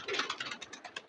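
Pigeons at a rooftop loft, flustered by people nearby, give a quick run of close wing flaps and scuffling with soft bird sounds, in short repeated bursts.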